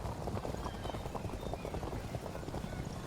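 Light horse cavalry hooves in the medieval strategy game Field of Glory II Medieval make a continuous, dense drumming of many hooves at a steady volume, with no voices.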